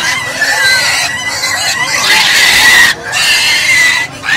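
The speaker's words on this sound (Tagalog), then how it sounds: "Ito, marami siyang baboy, oh." Pigs at a livestock market, with dense squealing and grunting close by, mixed with the clucking of nearby chickens, loud and continuous with brief dips.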